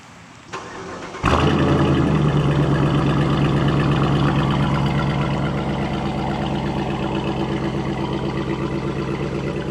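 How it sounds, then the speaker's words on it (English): An SUV engine with its stock exhaust cranks and catches, then settles into a loud, steady exhaust rumble that holds at idle. "That is the stock exhaust."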